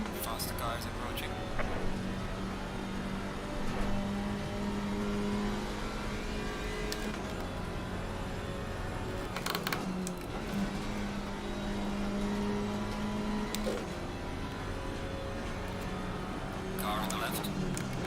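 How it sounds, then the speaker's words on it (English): A race car in the Assetto Corsa Competizione racing game draws closer and passes, its engine whining and rising in pitch over a steady hum of engines. A voice talks over it throughout. "Faster car is approaching."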